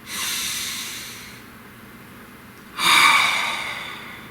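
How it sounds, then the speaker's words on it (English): A slow, deep breath from a single person: an audible airy inhale that fades, a brief pause, then a stronger, breathy exhale close to the microphone. "Take a nice deep breath."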